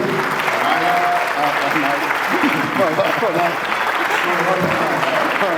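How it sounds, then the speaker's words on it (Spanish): A large audience at a church anniversary celebration gives loud, sustained applause filling the hall, continuous and dense, with voices faintly mixed in under the clapping. "I would like you to clap and give a welcome to my wife."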